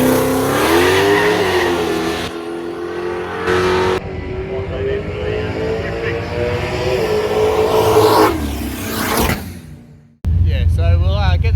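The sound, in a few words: drag race car doing a practice run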